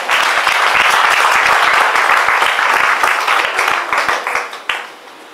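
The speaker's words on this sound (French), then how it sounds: "On peut acclamer Dieu pour les chants." A church congregation applauding to praise God after the worship songs: dense, loud, sustained clapping from many hands that fills the room, then thins and fades toward the end.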